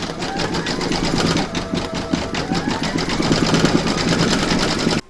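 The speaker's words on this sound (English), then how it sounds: "Pop your hoop into your machine and stitch round number 3." Embroidery machine stitching an in-the-hoop bells appliqué, a steady fast needle rhythm with a constant mechanical hum running throughout, close and fairly loud, stopping abruptly at the end.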